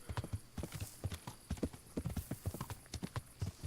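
Horse hooves clip-clopping at a steady walking rhythm while riding in the medieval video game Kingdom Come: Deliverance, clear repeated thuds heard alone at moderate volume.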